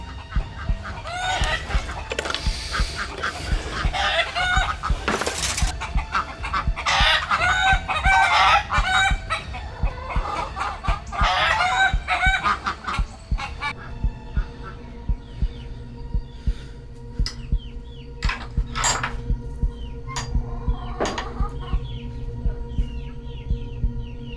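Agitated clucking and squawking from several chickens fills the first half, then quieter scattered clucks and calls continue over a low hum.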